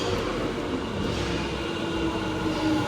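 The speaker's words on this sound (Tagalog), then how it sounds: "Pag narinig nyo nga pala itong tunog na to, ibig sabihin parating na yung train." At a JR station platform in Japan, a steady rumble of an arriving train fills the air, a continuous mid-level rolling noise with no voices.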